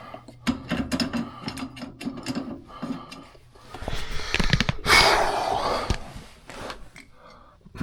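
A ratchet wrench works on cargo trailer parts near the ground, with rapid clicking bursts, metallic rattles and a louder stretch of grinding mechanism noise, close and fairly loud.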